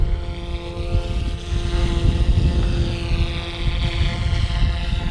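A small Goosky S1 direct-drive RC helicopter's rotor whirs steadily and loudly nearby, a constant buzzing drone with a faint rising and falling tone and no talking.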